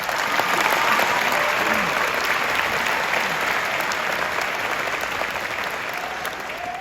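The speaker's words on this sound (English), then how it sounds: "we should all give ourselves a nice round of applause for graduating" A graduating high school class of 2022 applauds at a West High commencement in Iowa City, producing a steady, loud roar of clapping from a large crowd that holds evenly throughout with only a slight taper.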